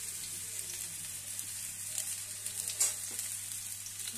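Ginger garlic onion paste with spices frying in a pan makes a soft, steady sizzle with light stirring scrapes and one brief sharper clink, quiet and close.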